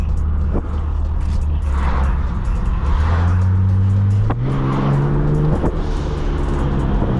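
A BMW E39 with an M50B30 engine drones steadily at close range, its pitch stepping upward through gear changes as the car accelerates, with no talking.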